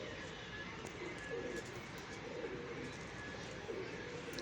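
Pigeons coo steadily throughout, a soft continuous murmur of bird calls at moderate distance, with no talking over it.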